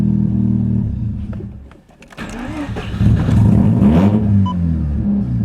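Mazda RX-7 FD3S rotary engine running after a fuel pump resistor rewire, a close, loud rumble that dips briefly, then rises again into an uneven idle with a slight rev.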